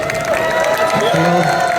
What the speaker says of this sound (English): Cheap applause. I'll take cheap applause.